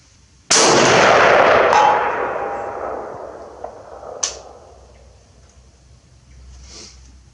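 A single sharp rifle shot from a Springfield M21 with ART II scope fired at a 300 target outdoors, loud and near, with a long fading echo and a faint distant ring from the target about four seconds later.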